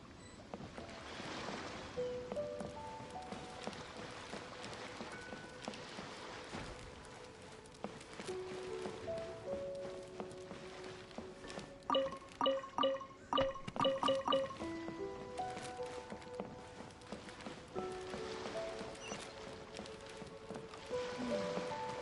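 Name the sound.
ocean waves while sailing, from the video game Genshin Impact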